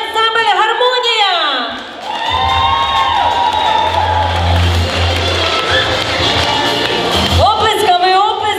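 Audience applause and cheering fill the hall at a festival awards ceremony, a dense sustained wash of claps and shouts over low background music.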